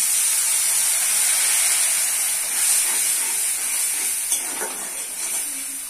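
Water hits hot spiced chicken masala in a pan, giving a loud steady steam hiss and sizzle that holds for several seconds and eases slightly toward the end, with a few small clicks.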